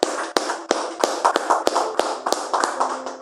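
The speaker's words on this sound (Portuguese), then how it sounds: "Palmas para Jesus." A church congregation claps in praise, giving sharp, uneven hand claps spread across a few seconds, close and moderately loud with no talking.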